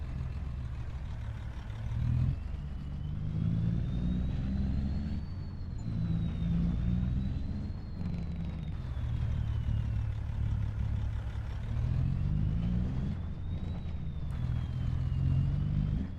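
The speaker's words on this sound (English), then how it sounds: "hop in the pickup and head back down to the field" A pickup truck drives in Farming Simulator 25 with a steady mid-pitched engine drone, rising and falling gently through gear changes, heard close and alone.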